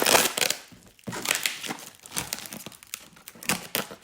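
Loud crinkling and crushing of stiff styrofoam packaging from a shipped box, in continuous bursts of rustling and squeaky crackles, close up with no talking.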